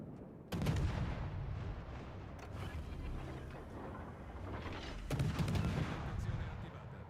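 Ship guns fire in a World of Warships: Legends naval battle, with heavy booming salvos near the start and again later over a continuous rumbling, mechanical battle din.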